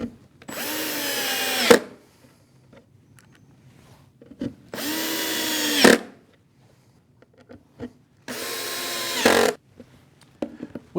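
Power drill driving screws into wooden router table panels in three separate bursts, each about a second or more long, with the motor whining up and then cutting off, close by, with quiet pauses between.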